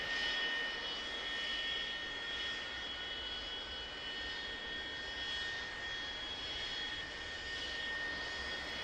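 The F-100D jet engine spools up during a cold start in the DCS World flight simulator. It is a steady, whining turbine roar with high tonal hums that holds evenly throughout.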